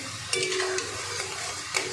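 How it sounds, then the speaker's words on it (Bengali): Flattened rice (chira) fries in oil for homemade crunchy snacks, a close crackling sizzle with a few clinks of a stirring utensil against the pan. "দেখুন বন্ধুরা, কত সুন্দর ভাজা হচ্ছে"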